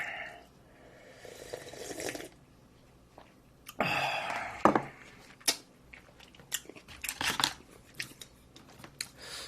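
Someone eats wood-fired barbecue of whole pork belly and duck, with close, wet chewing and crunchy bites in irregular bursts, alone and without talk.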